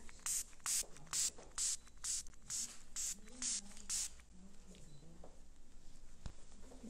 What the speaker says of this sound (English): I'm going to use a spray.